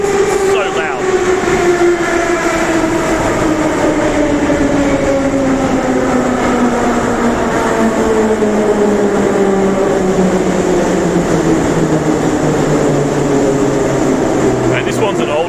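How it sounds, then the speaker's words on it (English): An older-style Moscow metro train pulls into a station, a loud, sustained roar with a falling whine that descends steadily as it slows, filling the whole stretch alongside rumbling wheels; a voice speaks briefly beneath it. "And this one's an older style train."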